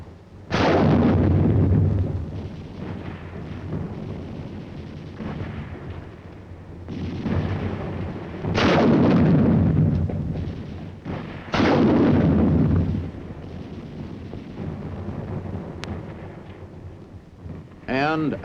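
Heavy Korean War gunfire, an automatic rifle and 3.5-inch bazooka blasting in loud booming bursts that roll and echo, several big reports spaced a few seconds apart over a constant rumbling battlefield background.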